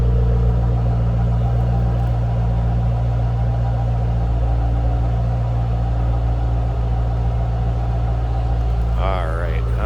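A 2007 Ford Mustang Shelby GT engine idles with a steady, deep rumble and continuous mid-range drone, unchanging for the whole stretch, with a brief wavering sound near the end.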